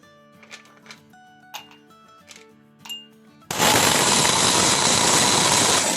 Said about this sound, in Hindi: तो यहाँ पे हम मिश्री को पहले पीस लेंगे ये ग्राइंडर जार में।